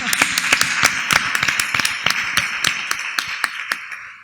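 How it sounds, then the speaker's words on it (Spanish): Clapping from a small workshop audience, a quick burst of sharp hand claps that rises and then thins out over a few seconds, with no speech on top. "Un aplauso."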